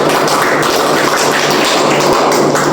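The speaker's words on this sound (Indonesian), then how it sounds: "kita beri aplaus untuk kelompok pertama" Students in a classroom applaud a group, a dense, even wash of clapping that holds steady for a few seconds with no speech over it.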